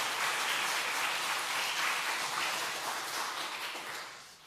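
A church congregation at a Korean Sunday afternoon service claps in a broad, even wash of applause that holds steady and then tapers off toward the end.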